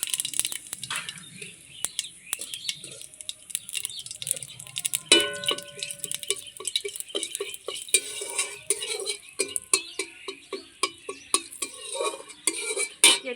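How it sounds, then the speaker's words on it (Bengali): Whole cumin seeds fry in hot oil for a fish curry with potato and eggplant, crackling while a spoon scrapes and taps the pan in a busy, uneven rhythm. "ফোড়নে গোটা জিরা দিয়ে দেবো"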